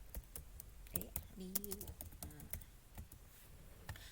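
Quiet typing on a computer keyboard, with irregular clusters of sharp key clicks through the whole stretch and faint voice-like murmurs in the background.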